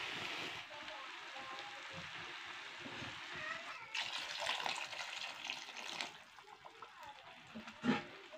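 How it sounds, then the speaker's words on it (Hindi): Water is poured into fried masala for a sea fish and drumstick curry in a village kitchen, giving a steady sizzling, splashing wash that swells midway and ends with a brief knock. "मसाला अच्छे से फ्राई हो चुका है, आइए अब पानी डालते हैं।"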